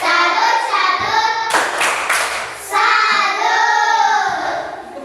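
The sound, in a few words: group clapping a salute chant for group 1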